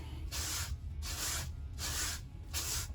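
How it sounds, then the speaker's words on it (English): A sanding block fitted with 80 grit sandpaper rasps over a plastic edge of a car center console armrest, producing four even back-and-forth strokes of close, loud gritty hissing with brief pauses between. "I just have some 80 grit on a block. And I'm just going to work it."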